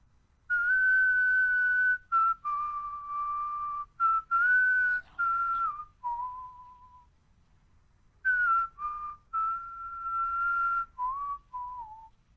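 A person whistles the melody of a song alone in a quiet space, clear sustained tones in two phrases separated by a short pause.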